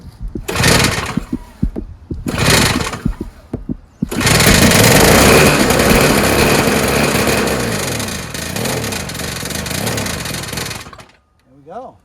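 Yard Machines single-stage snowblower with a 3.5 HP Tecumseh engine, two short bursts from recoil start attempts before the engine catches and runs loud and steady, then cuts out.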